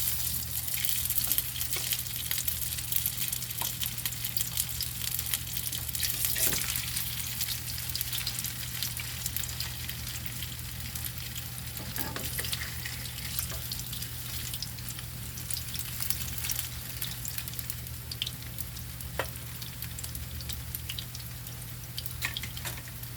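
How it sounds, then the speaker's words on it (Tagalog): Luncheon meat fries in a pan, a continuous close sizzle and crackle with occasional stirring and clinking, steady throughout with no talk. "dito sa kabilang banda, magpiprito naman tayo ng ating luncheon meat"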